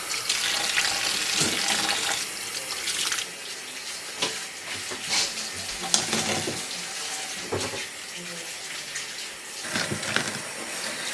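Running tap water washes tumbled, polished rocks at a sink, an uneven splashing stream with brief gushes and clatters over about eleven seconds, no speech.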